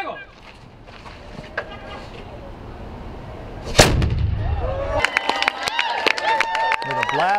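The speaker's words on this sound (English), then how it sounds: "With a blast of a cannon," A ceremonial cannon fires one loud, booming blast outdoors at Tucson's 244th birthday celebration at the Presidio San Agustin Museum, followed by crowd noise and scattered voices, with background murmur before the shot.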